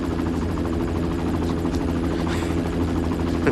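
A helicopter runs steadily nearby, its rotor and engine making a continuous droning hum that fills the whole clip at an even level.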